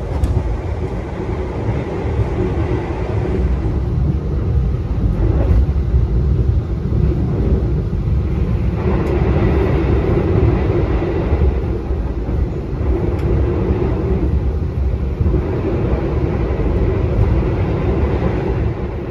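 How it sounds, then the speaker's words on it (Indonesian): Steady rumble of the Bogowonto New Generation economy passenger train pulling into Kutoarjo station, a low continuous rolling drone with occasional clanks and rail knocks, no voices. "kereta api Bogowonto tiba di stasiun Kuto Arjo, teman-teman"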